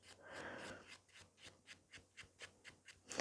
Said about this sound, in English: I'm just finishing it off with the 100 grit